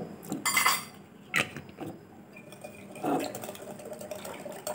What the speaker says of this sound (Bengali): সাদা তেল দিয়ে ভালো করে মিশিয়ে নিচ্ছি।